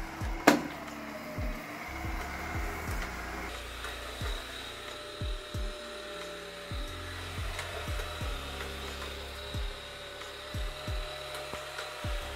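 A 360 S10 robot vacuum cleaner runs steadily at moderate distance, a continuous motor whir with brush hum, punctuated by regular low knocks and thuds as it moves across the floor, with no talking.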